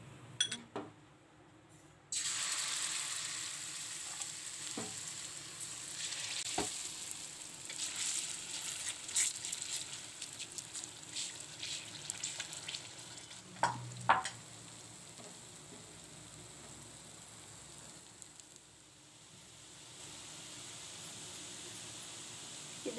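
Vegetable semolina batter sizzles in hot oil in a pan, a steady broadband frying hiss running throughout with occasional clicks and faint utensil taps, close and fairly loud with no talking.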